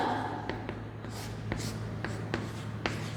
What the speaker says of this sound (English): Let us write the answer.